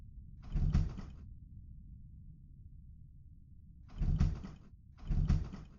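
A locked wooden attic door is tried and rattled three times, each a short burst of rattling and knocking, with quiet pauses between and no voices.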